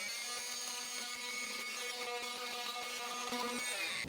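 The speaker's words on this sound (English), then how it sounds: "we're gonna try a power tool. I put a scraper blade attachment on my oscillating multi-tool" Oscillating multi-tool fitted with a scraper blade removing dried mortar from a bathroom floor, a steady buzzing whine with a rapid rattling chatter against the surface, continuous and close.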